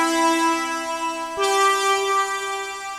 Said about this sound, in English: Very basic pad sound and very basic progression